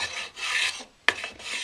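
A hand plane works the wooden edges of a surfboard replica in close, raspy strokes: two long shaving passes, a brief pause, then a sharp bite into another stroke.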